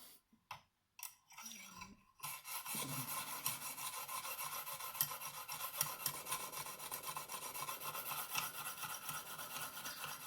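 Knife blade rasping rhythmically across a Lansky 600 fine sharpening stone, steady scraping strokes after a few brief scuffs at the start, close and fairly quiet.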